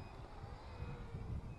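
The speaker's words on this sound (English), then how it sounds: "we're getting a constant beep now" A steady high-pitched low-voltage alarm tone from a drone's LiPo battery sounds continuously over low rumbling motor noise, faint and unbroken throughout.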